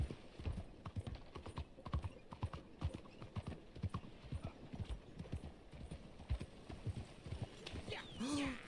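Horse hooves clip-clop steadily on ground in Red Dead Redemption 2, a close, regular walking rhythm of sharp thuds running throughout, with a brief whinny near the end.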